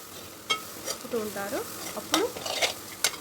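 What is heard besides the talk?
stirring eggs frying in a pan for egg rice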